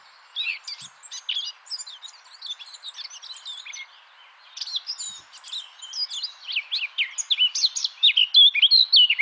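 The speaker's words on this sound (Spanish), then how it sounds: "Y esta es la parte clarísima de curruca capirotada. Os lo pongo por si luego lo queréis escuchar." A Eurasian blackcap sings in forest habitat near Málaga: a run of bright, rapid chirping phrases, close and clear. The song grows louder and fuller toward the end.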